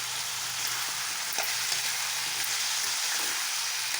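Pumpkin pieces frying in a pan for a curry make a continuous, even sizzle, with a soft scrape of stirring near the middle.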